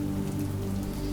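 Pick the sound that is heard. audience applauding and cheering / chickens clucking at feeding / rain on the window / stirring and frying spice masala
rain on the window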